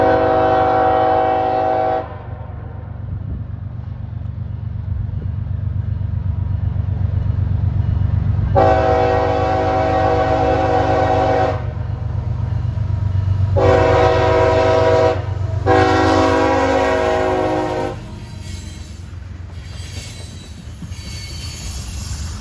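CSX heritage locomotive rolling slowly past on the Hudson line, sounding loud horn blasts in long and short bursts over a deep engine rumble and wheel noise; no voices.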